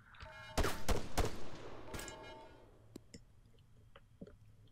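Sniper rifle fire in the military shooter game ARMA III: a sharp cluster of loud cracks and thumps, then quieter scattered clicks and distant pops over low background rumble.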